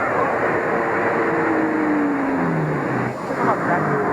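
An old car in an early sound-era film drives up, a steady engine hum rising and passing close, with a voice speaking over it.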